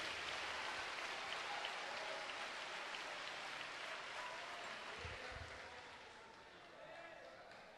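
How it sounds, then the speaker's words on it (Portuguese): Church congregation at a Brazilian preaching service claps in a broad, sustained wash of applause that slowly fades, sounding somewhat distant. "Vamos aplaudir com vontade."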